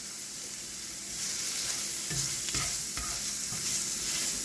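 Onion and garlic sizzle steadily in a pan, loud and close, with the spoon's scrapes and clinks as the mixture is stirred, and no voices.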